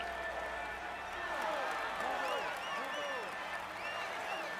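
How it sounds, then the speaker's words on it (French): A crowd cheers and applauds a stage winner in a Tour de France cycling video game, a faint, steady wash of clapping and chatter with commentary voices over it. "Allez, on l'applaudit encore."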